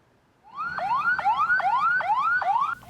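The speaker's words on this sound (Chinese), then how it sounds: "救护车赶紧进入事发现场" An ambulance siren wails at the scene of a suicide bombing at a wedding in Dera Ismail Khan, northwest Pakistan, sweeping up in loud, close, repeated rising whoops that run steadily for about two seconds.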